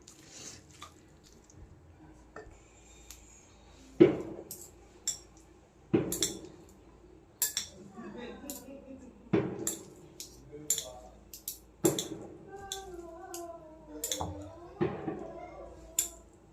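Noodles and vegetables for Korean cheese noodles tossed together in a pan, giving a series of sharp utensil clinks and scrapes with soft squishy stirring between them, close and fairly quiet, with a voice talking now and then.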